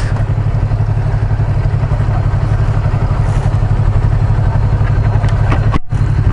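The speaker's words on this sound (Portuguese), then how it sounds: "A motinha aí anda, viu?" A Yamaha MT-03 motorcycle engine drones loud and steady while riding through traffic, with a constant low rumble and wind noise that briefly drops out near the end.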